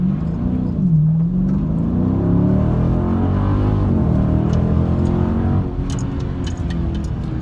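A 2019 Dodge Charger Scat Pack in sport mode rolls into a hard 0-60 run up a street hill, its engine note droning loud and steady and climbing in pitch, with a brief dip near the midpoint before pulling again.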